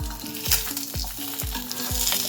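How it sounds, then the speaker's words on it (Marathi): An egg half-fries in oil in a pan, sputtering with a bright crackling sizzle while about five regular low knocks of a utensil tap the pan in a steady rhythm, close and uninterrupted by talk. "एक बाजूने व्यवस्थित त्याला हाफ फ्राय करून घ्यायची आहे।"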